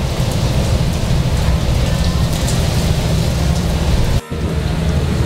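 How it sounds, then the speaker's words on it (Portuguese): Heavy, continuous rain pours down in a loud, dense hiss during a storm at sea aboard a car ferry to Marajó Island, Brazil, with a deep rumbling undertone and a brief dip near the end. "Uma tempestade aqui em alto mar."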